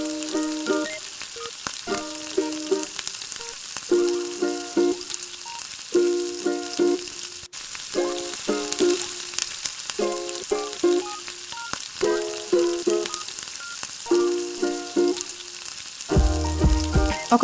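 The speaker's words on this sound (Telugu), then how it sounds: "ఆల్రెడీ కట్ చేసుకున్న బెండకాయలు వేసుకొని ఒక 2 టీ స్పూన్స్ ఉప్పు వేసుకొని వేయించుకోవాలి." Cut okra sizzles in hot oil with salt and tempering spices in a pan, a steady close crackle broken by regular bursts of stirring and scraping.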